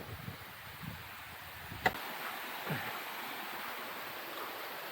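Asurkhol waterfall in Keonjhar flows as a steady, soft broadband rush of falling water, faint and continuous, with one sharp click near the middle.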